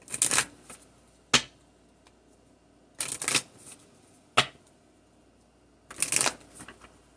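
A Kipper fortune-telling deck is shuffled close by in three quick riffling bursts, each followed by a single crisp tap as the cards are squared, with quiet gaps between.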